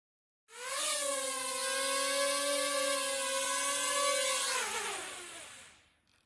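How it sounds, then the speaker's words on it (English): A small programmable drone whirs up on takeoff, holds a steady buzzing hum as it flies forward for a couple of seconds, then winds down as it lands; close and continuous with no talk. "So as you saw, it took off, it went forward for 2 seconds at the speed of 50 and then it landed."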